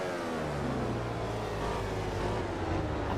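Racing motorbike engines in MotoGP 15 drone steadily behind the rider, a continuous high-revving whine layered over a low rumble, holding at a fairly constant loudness throughout.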